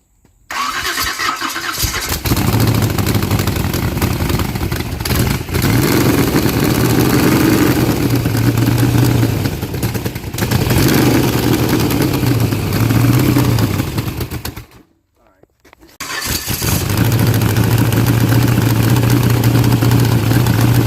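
A motor engine cranks and catches after a fuel pump fix, then runs at a loud, steady idle with a rough throb, cuts out briefly, and restarts to idle again; no talk is heard.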